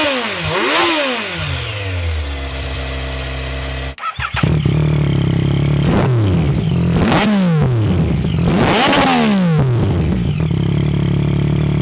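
A Yamaha MT-09 with an aftermarket Akrapovic exhaust and a stock-exhaust Kawasaki Z900 start up and rev, with a close, loud, rumbling idle broken by several sharp rising-and-falling throttle blips, one engine catching around the midpoint.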